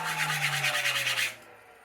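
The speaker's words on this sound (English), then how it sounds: "I just give it a light sanding on my cut for any blade wobble." Light sanding by hand across a cut surface on a wood turning blank, a steady rhythmic rasping of about a dozen quick strokes that stops after just over a second, close and fairly loud, with a low hum underneath.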